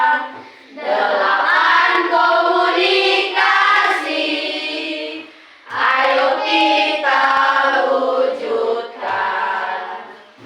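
A school class chants a numbered clap chant together, rhythmic hand claps mixed under loud group voices in repeated bursts.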